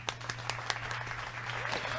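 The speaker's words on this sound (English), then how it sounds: "everybody hand clap" Group hand clapping on cue during a live morning show intro, a few distinct claps then steady scattered clapping with a low steady hum underneath, fairly faint.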